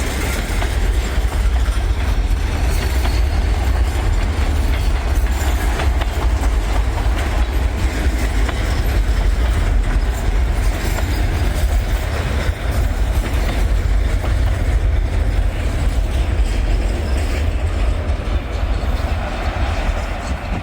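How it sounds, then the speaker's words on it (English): Train wheels clack and rumble over worn rail as cars roll onto an old siding, a continuous loud rolling roar with steady rhythmic clicking running throughout, close by and with no voices. "Clicking and clacking on this old stuff"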